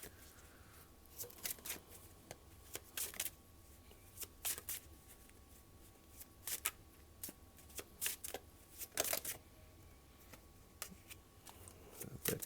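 Tarot cards are shuffled by hand in repeated quick riffling bursts with short pauses between them, close and fairly faint in a quiet room.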